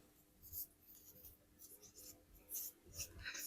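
A pen scratches across paper in short, quiet strokes that come in irregular bursts, close by, with no talk over it.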